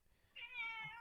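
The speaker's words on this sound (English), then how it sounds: "Yeah, cat." A single cat meows once, close and clear, a drawn-out tonal call lasting about half a second after a short quiet lead-in, with no talking.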